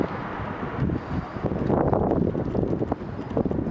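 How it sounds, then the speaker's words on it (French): Strong wind buffeting an outdoor microphone beside beehives, a loud continuous rumbling roar that swells and gusts, with no voices. "Avec le vent ça n'aide pas évidemment."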